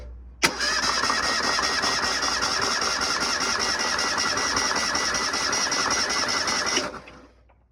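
A 1983 Ford EXP engine cranks over steadily during a compression test on cylinder number 1, a loud, continuous rhythmic whirring drone that starts abruptly, holds for about six seconds, then cuts off.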